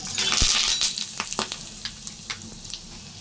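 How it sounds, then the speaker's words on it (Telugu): Tempering spices crackle and sizzle in hot oil for a chutney to go with rice-flour punugulu, a broad frying hiss with several sharp close pops and clicks scattered through, no voices. "సో పోపు అయితే వేస్తున్నానండి"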